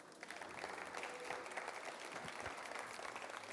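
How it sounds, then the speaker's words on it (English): Audience applause fills a hall after a talk on sustainable fashion, a steady dense patter of many hands clapping at fairly low level with no speech over it. "I think they deserve another round of applause."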